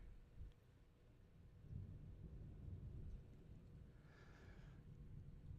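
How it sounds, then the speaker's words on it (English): Distant thunder from a thunderstorm in northeast Alabama rumbles low and steady for several seconds, faint and continuous, with a brief higher hiss partway through. "where we got thunder coming through at the moment"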